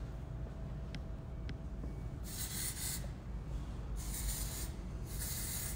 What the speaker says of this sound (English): This is our dry shampoo. And our texture spray as well.